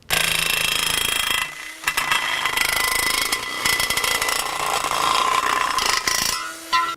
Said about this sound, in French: On va donc découper à froid et pour ça on utilise un outil un peu spécifique qui s'appelle une grignoteuse.